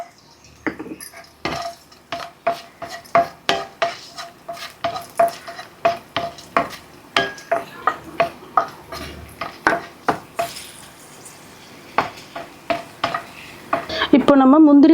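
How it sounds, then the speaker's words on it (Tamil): Cashews and raisins frying in ghee for rava kesari, with a soft sizzle under a quick, regular series of spoon taps and scrapes against the pan, ending in a brief clatter. "அடுத்து நம்ம திராட்சையை நெய்யிலே வறுத்துக்கலாம்."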